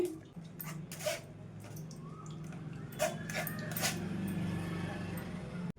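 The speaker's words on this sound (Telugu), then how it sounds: "ఒక కడాయి తీసేసుకొని ఇందులో స్ట్రైనర్తో ఫిల్టర్ చేసేసుకుందాం అండి" Ground coconut milk is poured and filtered through a strainer into a pan, making a quiet trickling and dripping with a few soft splashes, fairly close and low in level.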